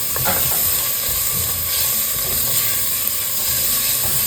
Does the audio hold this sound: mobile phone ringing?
no